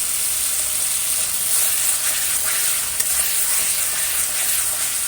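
Spice masala with added water sizzles steadily as it is stir-fried in a pan, a continuous loud hiss with faint scraping of stirring.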